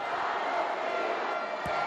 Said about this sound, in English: Crowd are in full voice.